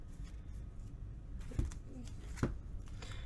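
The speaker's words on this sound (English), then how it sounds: "We're going to shuffle in one of these encounter sets." Game cards for Marvel Champions being shuffled, soft riffling and papery shuffles with two sharper snaps of cards tapped or bridged together, close by with no talking.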